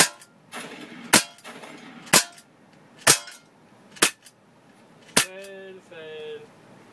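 A rifle loaded with surplus M80 ball ammunition fires five rapid shots in an uneven rhythm, each a sharp loud crack, followed by a brief metallic ringing tone.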